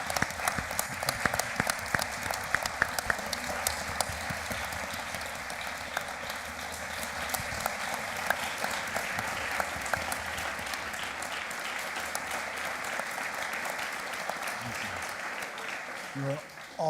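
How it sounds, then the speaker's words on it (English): A large audience claps steadily in sustained applause for a panel at an opening meeting, a dense, even wash of many hands that continues throughout, with a few louder claps and faint voices mixed in. "can we give our panel another round of applause?"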